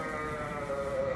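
Hungry pregnant ewes bleating together in a barn at evening feeding time, a steady chorus of overlapping calls with one sustained bleat rising clearly near the end, moderately close, with wind noise and no talk.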